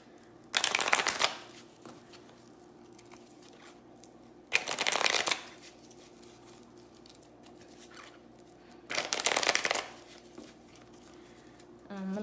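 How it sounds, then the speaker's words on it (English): A deck of playing cards is shuffled close up in three quick riffling bursts separated by pauses, with a quiet room tone in between. "Let me shuffle one more time."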